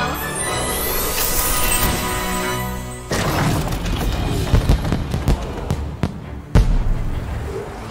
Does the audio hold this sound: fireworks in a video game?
yes